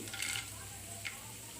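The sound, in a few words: spices frying in a pan, black pepper added, for tomato rasam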